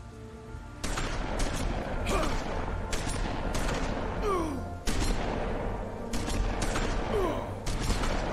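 Repeated gunshots in The Wolf Among Us game fire one after another in a steady, irregular series of loud sharp reports, with creaks and mechanical movement filling the gaps between them.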